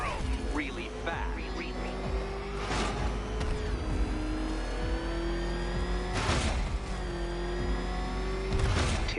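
Batmobile engine in Batman Arkham Knight revving and surging, with a sustained motor tone rising in pitch and periodic bursts of whooshing acceleration over a steady rumble.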